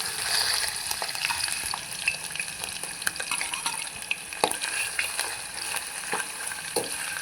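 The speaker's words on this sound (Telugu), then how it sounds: "ఇలా ఫ్రై అవుతుంది కదండి" Pieces of liver fry in hot oil in a pan, making a steady crackling sizzle with scattered pops and occasional stirring scrapes, fairly quiet and without voices.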